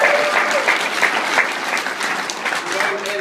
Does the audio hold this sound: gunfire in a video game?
no